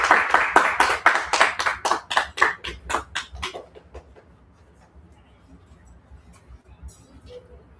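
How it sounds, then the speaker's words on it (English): An audience at a spoken-word open mic event claps in a burst of distinct, rhythmic handclaps that thin out and fade after about four seconds, leaving quiet room tone with faint scattered sounds. "let's give a big round of applause to Adrienne"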